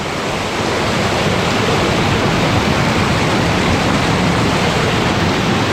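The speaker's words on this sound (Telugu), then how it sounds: "ఆ కొండ దగ్గర పైనుంచి వాటర్ ఫాల్ వస్తుంది" A mountain waterfall pours down near the Chenab River in snowy Ladakh terrain, a loud, steady, close rush of water with no voices.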